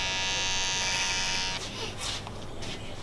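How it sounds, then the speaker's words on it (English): Electric clippers trim a man's patchy beard at a barbershop, giving a steady close-up motor buzz that cuts out partway, followed by faint handling sounds. "Just grooming the hair up and tightening all those softer hairs that fall down."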